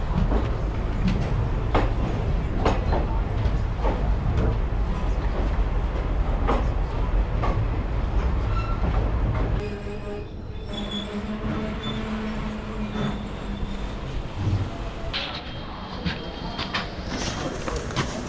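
Express train 22652 pulling into Chennai Central station, with steady rumbling and rail clatter, then sharp wheel squeals and clicking as it slows, heard from on board with some background voices.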